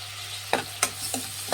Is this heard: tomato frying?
yes